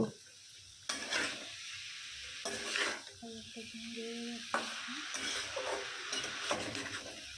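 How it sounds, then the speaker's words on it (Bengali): Onions fry gently in a pan, a soft sizzle under several bursts of spatula stirring and scraping against the pan, fairly quiet and close, without speech. "পেঁয়াজ এবং এর থেকে জল ছেড়ে জল ছাড়া অব্দি আমরা আস্তে আস্তে নেড়ে নেব"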